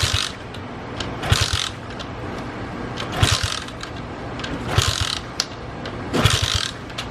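A 70cc-125cc turbocharged pit bike engine is cranked repeatedly without firing, with bursts of ratcheting mechanical whirring separated by short pauses and sharp clicks, and no talk.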